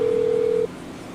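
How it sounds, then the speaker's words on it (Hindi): A phone rings in the GTA 5 video game: a single steady electronic tone holds for about half a second and then cuts off, loud and close. "फोन उठा ले बाबे।"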